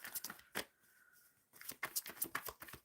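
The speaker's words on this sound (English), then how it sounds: "Shuffling for Myra." Close, crisp shuffling of tarot cards comes in quick flicking bursts, broken by a brief lull before the rapid riffles pick up again.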